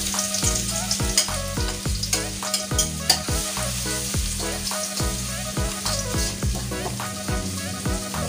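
Garlic sautéing in a hot frying pan, a steady loud sizzle punctuated by regular scraping and clanking strokes of a spatula stirring the pan.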